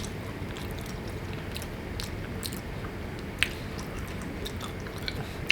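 Someone chews crispy baked mac and cheese at close range, with soft, steady mouth sounds, a few small crunchy bites and no talking.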